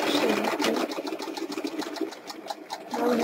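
Sewing machine running a backstitch along the edge of a straight skirt, a rapid rattling whir of stitching, close and steady.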